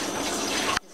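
Running water rinses a Yorkie in a bath, a steady close splashing stream that stops abruptly near the end.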